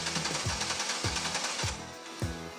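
A six-cylinder car engine cranks over in a steady, loud rhythm of low, chugging compression pulses, roughly two per second, with no voices.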